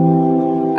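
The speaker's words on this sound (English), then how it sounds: "the inversion, which is moving the root note to the top of the chord, sounds like this." An inverted chord, root note moved to the top, sustains for just under a second before a brief noisy burst cuts in at the end.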